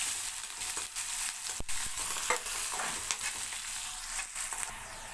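Green chilies fry in hot oil in a pan for an onion and okra dhaba-style stir-fry, giving a soft continuous sizzle broken by a few sharp crackles and pops, with no talking.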